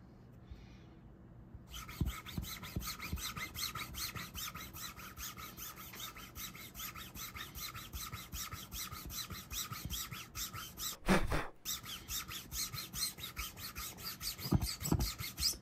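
A rubber cleaning block scrubs a carbon fiber pickleball paddle face, giving a continuous rapid rasping rub that runs for over ten seconds with brief pauses, close but fairly soft, with no talking.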